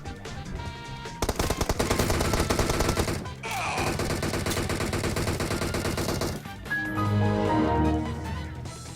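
Automatic and rapid gunfire from a PUBG Mobile match, loud, dense bursts of shots packed close together, with gaps and fainter battle noise between volleys.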